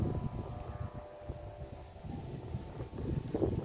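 Strong gusting wind while several kites fly outdoors, a low rumbling buffet across the microphone that rises and falls throughout.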